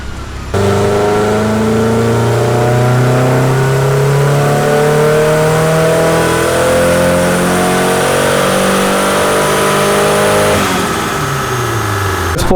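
A turbocharged Nissan S14 engine pulls hard on a dyno, its loud steady drone climbing in pitch through a long full-throttle run before dropping off abruptly near the end.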